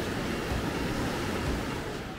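Ocean waves wash onto a Caribbean shore on Costa Rica's East Coast, a steady broadband rush of surf that stays loud and even throughout, with no voices.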